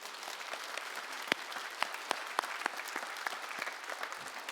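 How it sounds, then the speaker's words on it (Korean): A church congregation claps in thanks to God during a sermon, a steady wash of applause with several sharp, distinct individual claps standing out, moderately faint and without talk. "우리 그 하나님께 감사의 박수를 올려드려야 되지 않을까요?"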